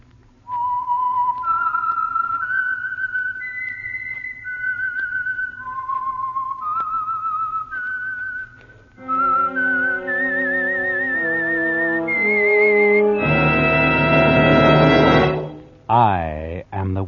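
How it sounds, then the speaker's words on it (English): The whistled signature theme of the radio program The Whistler: a solo whistler carries a clear melody of held rising and falling notes, then an orchestra joins and swells to a loud, dramatic finish. "the signal to listen for is this whistle that identifies the Signal Oil program, The Whistler"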